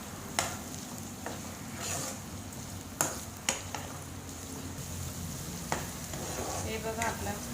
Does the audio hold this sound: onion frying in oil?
yes